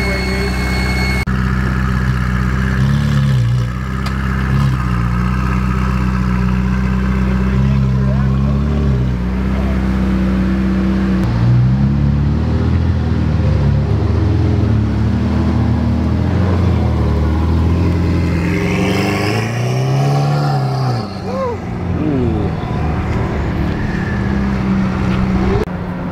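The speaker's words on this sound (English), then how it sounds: "Love the sound of the R8." Audi R8 with a loud V10 engine cruising, a sustained throaty drone that rises and falls with revs, swelling sharply near the end, with people talking over it throughout.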